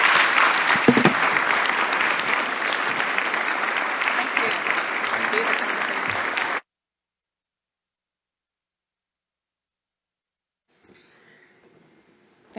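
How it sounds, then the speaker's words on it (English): Audience applause welcoming Minister Heidi at a Canadian event on skills and prosperity: a loud, dense round of clapping that cuts off abruptly, followed by silence and then faint room noise. "Please, everyone, give me a warm round of applause for Minister Heidi."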